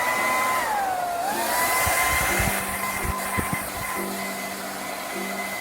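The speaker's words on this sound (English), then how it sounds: "we'll dry that off again" A hair dryer blasts steadily over a painted terracotta pot, a loud close airy roar with a whining tone that dips and rises, with faint knocks and handling noise underneath.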